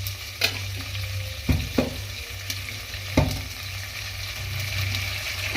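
Sugar and ghee cooking in a pan for a Gujarati patarveliya recipe, a steady soft sizzle and bubbling with a few sharp scrapes and knocks of a stirring spoon, close and continuous with no talk.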